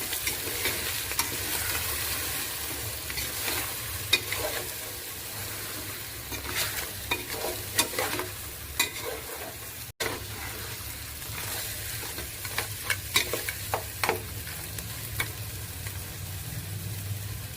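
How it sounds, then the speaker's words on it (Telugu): Bone pieces coated in chili powder being stirred in a pan, a continuous sizzle and fry with frequent scraping and clinking strokes of the spoon against the pan, close and moderately loud. "మళ్ళీ కొద్దిసేపు దాన్ని కలిపి ముక్కలకి అంతా పట్టేటట్టు కలుపుకున్నాము."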